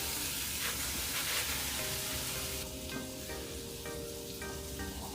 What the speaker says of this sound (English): I'm going to go ahead and add our rice.